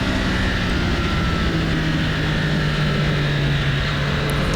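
A motorcycle on the Thompson race track drones continuously and loudly from start to finish with a steady engine hum under heavy wind rush.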